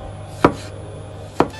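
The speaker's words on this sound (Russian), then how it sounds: "Я нарезаю томаты достаточно крупно" Kitchen knife chopping tomatoes into large chunks on a board: two crisp, separate knife strikes about a second apart over a quiet room tone, with no talking.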